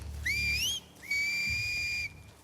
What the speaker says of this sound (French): Arrêtez de siffler